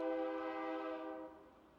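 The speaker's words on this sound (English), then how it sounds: "Oh, well, there goes a train." Train passing about a block away, a loud sustained horn blast with layered harmonic tones that holds steady and then fades slightly toward the end, heard alone with no talking.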